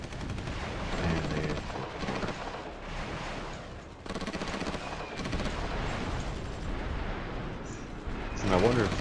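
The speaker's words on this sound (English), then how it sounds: "I wonder if those bullet sounds are too loud." Gunfire and artillery effects from the strategy video game Supreme Ruler 2030 crackle in continuous bursts and booms, a dense barrage of shots running throughout.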